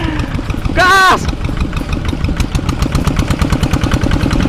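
Remote-controlled tractor engine running close up with a loud, rapid chugging putter, steady throughout; a short sharp tonal whine cuts in near the start.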